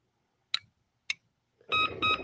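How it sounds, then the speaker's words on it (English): A Batphone answering machine signal: two short, sharp beeps spaced about half a second apart, followed by two louder, longer electronic tones, crisp and close against silence. "That's the signal for the bat answer phone to be put into action."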